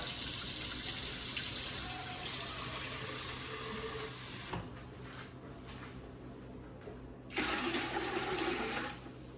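Water gushes from a tap into a pot with a bright, rushing hiss, briefly easing off and then pouring hard again, close by.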